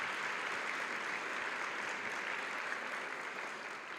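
Audience at a Community Action annual meeting on affordable housing clapping steadily, a dense, even wash of many hands that holds throughout and eases slightly at the end.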